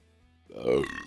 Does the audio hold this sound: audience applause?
no